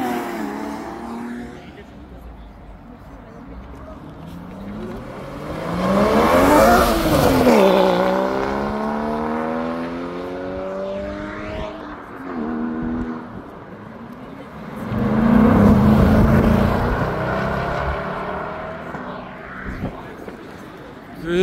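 Porsche Boxster and GT4 sports cars accelerating past at a supercar meet, engines rising through gear changes in two loud passes, with crowd voices and chatter underneath.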